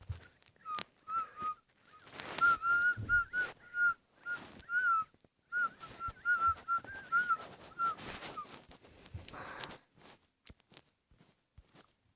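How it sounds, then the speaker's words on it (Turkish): Someone whistles a melodic, flute-like tune in a string of clear notes, accompanied by scattered clicks and shuffling noises nearby. "Flüt gibi ıslık çalıyorum ya."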